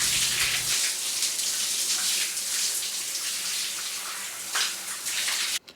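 Steady broadband rush of shower water running while hair is rinsed out with cold water after a food-colouring dye, continuous and fairly loud before cutting off abruptly near the end.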